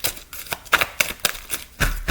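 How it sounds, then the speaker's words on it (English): A deck of playing cards is shuffled by hand in a series of quick, rhythmic papery bursts, about eight in two seconds, close and fairly loud. "I'm going to hit the shuffle because I messed them up."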